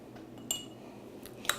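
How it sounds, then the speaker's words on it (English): A utensil stirs a salt-and-pepper-seasoned dish in a pan, giving a few faint metallic clinks and scrapes, close by and quiet. "Give it another good stir"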